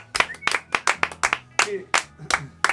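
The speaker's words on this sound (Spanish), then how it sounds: "Fuerte el aplauso para recibirlos." A small audience claps to welcome the band onstage, with irregular, fairly close hand claps in uneven bursts and a voice briefly mixed in.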